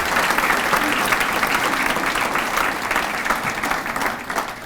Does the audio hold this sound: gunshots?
no